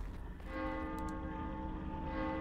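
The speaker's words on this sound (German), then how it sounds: "Die Glocke. Sie zieht sie an." A church bell tolls steadily inside a horror video game, its sustained metallic hum ringing loud and continuous with long overlapping harmonics over a low rumble, no talking.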